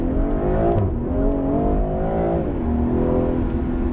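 A JB4-tuned BMW M340i pulls hard at full throttle, its engine note loud and sustained, rising in pitch, briefly dipping and then climbing again as traction control eases and restores power.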